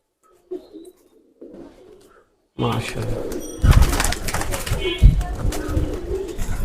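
Dewlap pigeons coo softly at first, then louder cooing follows amid rustling and handling noises close by.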